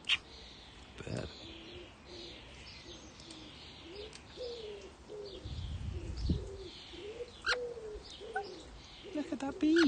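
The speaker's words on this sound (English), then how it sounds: "Bird." Pigeons or doves coo in a steady repeating series close by, with a few higher chirps and tweets from other birds mixed in, and people talking quietly in the background at times.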